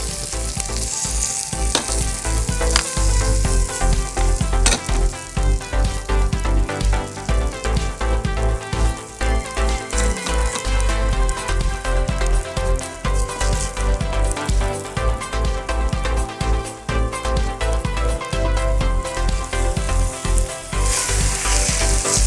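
Beaten egg frying in a hot pan gives a loud, dense, continuous crackling sizzle with a steady spitting texture throughout, close and strong, with no voices.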